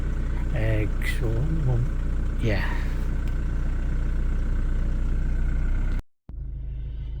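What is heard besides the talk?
Jaguar X-Type engine idling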